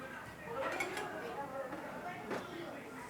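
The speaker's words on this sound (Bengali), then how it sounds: "তার মধ্যে আমি এই টিফিন কারিটা দিয়ে দিলাম, দিয়ে এটা চাপা দিয়ে দিলাম" A metal tiffin carrier is set into a bowl on a gas stove and covered, producing a few close metallic clinks and knocks among faint kitchen clatter.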